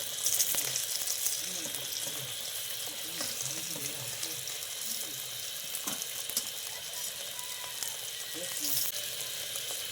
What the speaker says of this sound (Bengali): এরপর শুরু হলো মাছ ভাজা পালা।